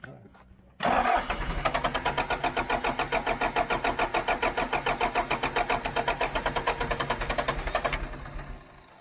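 A John Deere 310G backhoe's diesel engine cranks steadily on the starter, a loud rhythmic chugging that runs for about seven seconds without catching, then cuts off.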